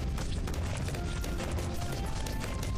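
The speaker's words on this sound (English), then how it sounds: "Explosions!" Explosions rumble in Team Fortress 2 on the 2fort map, a dense, continuous barrage of booms and blasts that stays loud and unbroken for the whole stretch.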